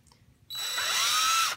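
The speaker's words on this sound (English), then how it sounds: "So I'm going to drill a hole." A power drill spins up after a short quiet moment and whines steadily and loudly as it bores a hole, then cuts off abruptly.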